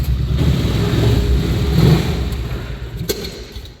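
Polaris 500 Ranger engine with a newly replaced camshaft runs steadily at a close, loud idle with rising revs partway through, then settles back down; no talking.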